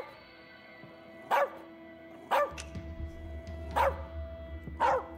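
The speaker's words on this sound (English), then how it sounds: "He's a dog. He doesn't have an off switch." A dog barks in the video game As Dusk Falls, four sharp, separate barks spaced about a second apart over a low steady hum, with no voices during the barks.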